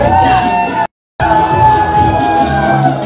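A wedding crowd in Dallas cheers and whoops loudly, a dense mix of shouts and yells. The sound cuts out briefly, then returns as strong as before.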